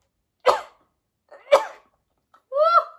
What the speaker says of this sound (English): Oh, gonna sneeze.